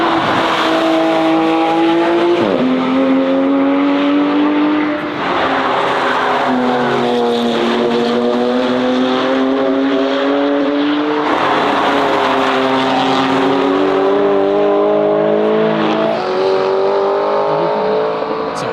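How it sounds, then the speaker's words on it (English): Race cars roar past one after another on the Nürburgring, engines rising and falling in pitch as they sweep by, loud and continuous with occasional tire squeal. "a great spot to see the cars driving over the Nürburgring"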